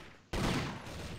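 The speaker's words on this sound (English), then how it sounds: "I have a machine gun." Burst of machine gun fire in the online shooter CrossFire, a dense continuous rattle that starts abruptly and fills the short moment, loud and close.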